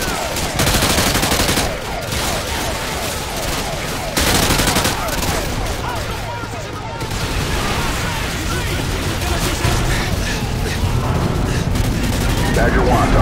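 Sustained gunfire and heavy weapons fire from Call of Duty Modern Warfare 2, a dense battlefield barrage of rapid bursts and booming impacts that carries loud and continuous, with shouted radio-style voices underneath.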